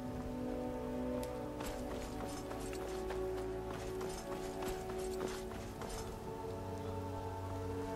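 Horse hooves clip-clop at a running pace in the video game Skyrim, a quick, steady patter that stays fairly quiet beneath sustained game music and a soft hiss like rain.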